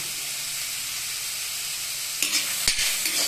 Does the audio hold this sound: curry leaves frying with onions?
yes